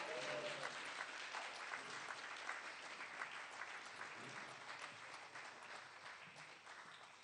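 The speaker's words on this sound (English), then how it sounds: "give them a round of applause, everyone." A theatre audience at an awards event applauds students coming up on stage, a dense, sustained round of clapping from many hands that carries on steadily and eases off slightly at the end.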